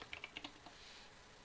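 A computer keyboard being typed on, with five or six quick close keystrokes in an uneven burst followed by a faint hiss of room noise.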